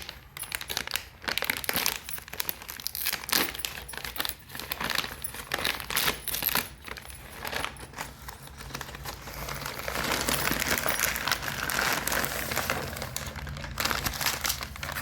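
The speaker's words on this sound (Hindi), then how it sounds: "अब ये इस तरह से पैक किया हुआ है। अब हम इसे खोल लेते हैं।" A sealed plastic packet of chutney spices is handled and torn open, producing irregular close crinkling and crackling bursts over several seconds, then a denser rustle, with no speech.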